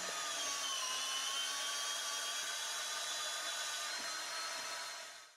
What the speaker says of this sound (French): Avec l'utilisation d'une perceuse et d'une mèche de 18, traversez le complexe sous toiture et repérez la sortie.